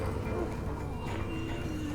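Horses in the video game The Walking Dead: Final Season, with fairly quiet hooves clip-clopping and faint snorting against a busy rumbling background, alongside low speech.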